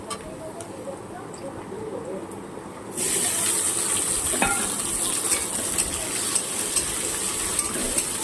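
Chopped onion frying in a pan for chilli chicken, a quiet sizzle that jumps to a louder, brighter hiss partway through, with occasional stirring clatter.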